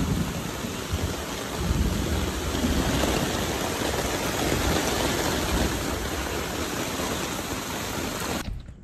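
Heavy rain from a storm at a motocamp in Lobo, Batangas pours down in a dense, steady roar that stays loud and constant, then cuts off abruptly near the end.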